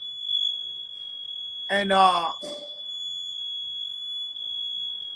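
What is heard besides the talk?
smoke detector alarm beeping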